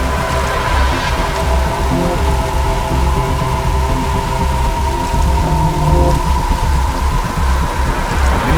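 Steady broadband rain in a dramatic outdoor scene, loud and continuous throughout with a constant hiss and no voices, a low hum running underneath.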